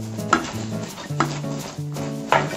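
Shrimp being stirred in a pan: three sharp metallic scrapes and clinks of a utensil against the pan at roughly regular intervals, over a soft sizzle and some tonal background music, with no speech.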